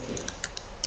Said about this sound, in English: I'm typing PowerShell.